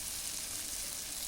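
Turmeric and chili powder sauté in hot oil for a tilapia curry, giving a continuous soft sizzle and crackle at close range with no talking.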